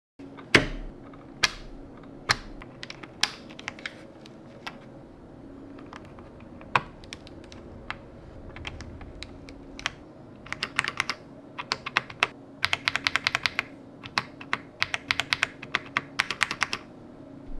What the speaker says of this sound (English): I'm gonna swap these keycaps with these ones I printed here